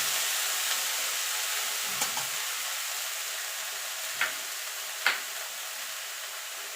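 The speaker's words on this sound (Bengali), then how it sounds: "এখানে শাকটা যে কেটে রেখেছি দিয়ে দেবো। এবার নেড়ে দেবো।" Chickpea greens and slit green chillies stirred in a hot pan, a steady broad hiss and sizzle with a few sharp scrapes of the spatula against the pan now and then.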